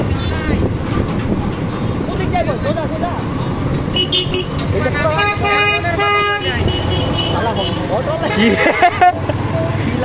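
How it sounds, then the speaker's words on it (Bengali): A bus horn honks in short repeated blasts over loud, constant traffic roar on a busy road. "একে তো হর্ন লাগেছে, বাসের হর্ন"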